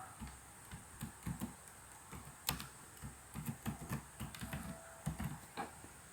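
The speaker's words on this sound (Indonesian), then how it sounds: "Kita bisa ketikkan nama." Fingers typing a name on a computer keyboard, a quiet, uneven series of close key clicks in short bursts, with no one talking.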